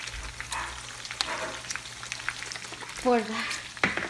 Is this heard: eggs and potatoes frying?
yes